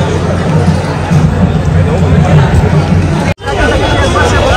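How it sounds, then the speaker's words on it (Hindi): Dense crowd babble fills a busy Jodhpur railway junction, many voices chattering loudly and close around, a nearer voice talking over the steady hubbub, with a brief cut near the end. "भीड़ बहुत ज़्यादा भाई यहाँ तो जोधपुर जंक्शन पे"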